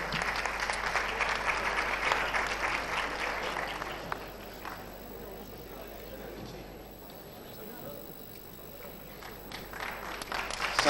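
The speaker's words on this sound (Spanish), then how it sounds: "les den un calurosísimo aplauso que sirva de estímulo y de gratitud a estas chicas" A crowd at a 1995 literary festival ceremony in Tomelloso applauds as young women leave down the aisle, a steady moderate clatter of many hands that thins in the middle and swells again at the end.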